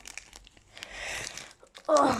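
Crinkling and tearing of a taped football trading card pack being opened, short papery rustles building to a louder rip at the end, with faint talk around it.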